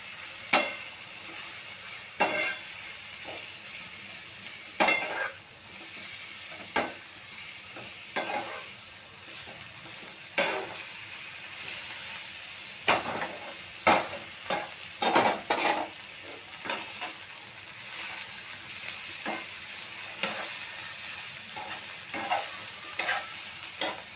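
Schezwan noodles tossed and fried with Schezwan sauce in a hot pan, a steady sizzle broken by repeated sharp clinks and scrapes of a utensil against the pan, close and without any voices.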